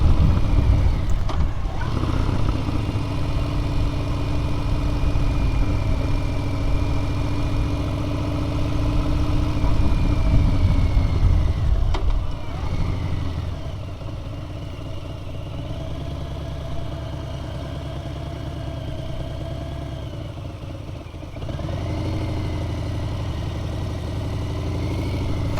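Steady motorcycle engine drone on a storm-chasing ride, a continuous low rumble with a slight drop in level midway, close and loud with no talking.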